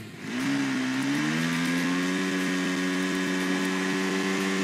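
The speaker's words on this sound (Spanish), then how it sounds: "Motor ni tak betul lah, kuat drift lah motor ni." Motorbike engine in PUBG on the Sanhok map, revving up from idle into a loud, steady, high drone that holds a near-constant pitch with slight wavering, close and unbroken by talk.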